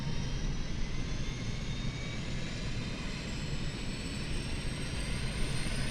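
Steady, loud roar of a CRJ airliner's running APU and engine in a flight simulator, parked at Las Vegas, holding an even whooshing drone from start to end with no talking.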